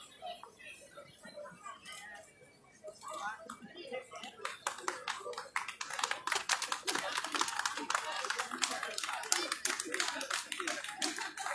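A crowd applauding cultural clubs at a traditional village festival in Iasmos, with scattered claps building into steady, fairly distant applause while a voice talks over it.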